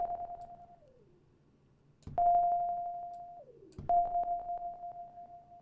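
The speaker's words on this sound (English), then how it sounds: "this kind of echoey delay effect that you can hear" Ping pong delay echo from Ableton Live 11's Hybrid Reverb on a steady synth tone, with repeating pitched tones that glide downward and restart, echoes trailing and bouncing in a clear rhythmic pattern.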